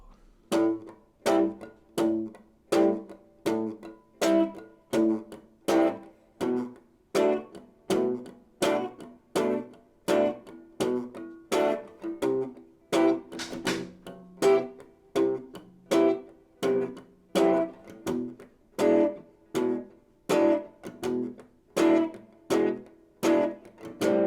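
Guitar strumming a steady eighth-note groove on a minor chord, with crisp evenly spaced strokes and accented hits, played solo and close with no talking.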